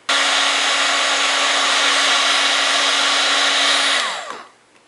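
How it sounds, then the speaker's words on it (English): A heat gun blows steadily for about four seconds while drying paper clay, a loud, even roar with a whining tone that winds down abruptly at the end before near silence. "and then I'm going to dry it with the heat gun."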